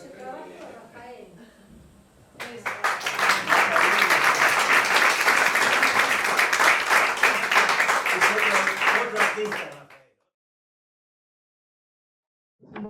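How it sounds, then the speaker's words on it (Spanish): An audience at a closing panel of a psychoanalysis symposium bursts into loud, dense applause that holds steady for several seconds before cutting off abruptly into silence, preceded by brief talk. "acá se lo aplaudió hace 5 segunditos"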